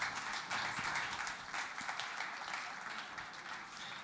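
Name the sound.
audience applause for a speaker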